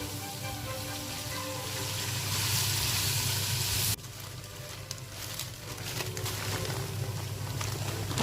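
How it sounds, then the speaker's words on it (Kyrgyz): Meat, carrots and onions frying in oil in a cauldron for buckwheat plov give a steady, close, hissing sizzle. It swells, then drops and settles into a lighter crackle with occasional pops and stirring noises. "Анан сабиз менен пиязды сразу салып, аны да жакшылап аралаштырып кууруйбуз."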